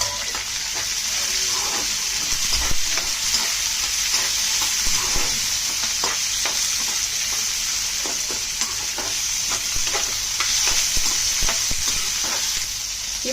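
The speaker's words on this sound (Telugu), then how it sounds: "పోపు బాగా వేగాక అల్లం ముక్కలు, పచ్చిమిర్చి, ఉల్లిపాయ ముక్కలు వేసుకోవాలి." Chopped ginger, green chillies and onion fry in a hot tempering of seasoning for wheat rava upma, giving a steady, even sizzle with scattered stirring scrapes throughout, close and continuous, no talk.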